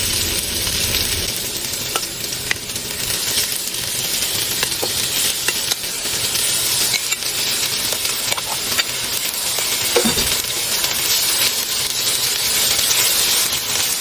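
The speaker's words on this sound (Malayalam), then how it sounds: "എണ്ണ ചൂടായിട്ട് നമുക്ക് ചിക്കൻ കുറേശ്ശെ ഇതിലേക്ക് ഇട്ട് കൊടുക്കാം" Small chicken pieces frying in hot oil for chicken fried rice, a loud, steady close-up sizzle and crackle with occasional spatter pops and a brief clatter of stirring, lasting throughout without speech.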